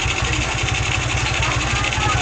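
A Rusi motorcycle with a newly fitted carburetor idles nearby in a loud, steady, rapid low thump that runs throughout without a break.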